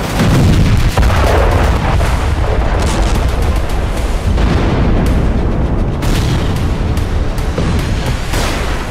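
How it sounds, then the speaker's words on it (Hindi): Missiles and bombs from Israeli airstrikes explode over towns in southern Lebanon, a dense barrage of loud booms and crackling blasts that rumbles on without a break, with no voices. "इजरायली वायुसेना ने लेबनान के कई शहरों पर मिसाइल और बम बरसाए।"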